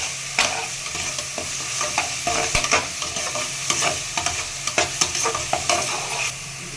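Onions with crushed ginger and garlic being stirred and sautéed in a pan for veg kurma: repeated scraping stir strokes over a steady close sizzle, with no talking.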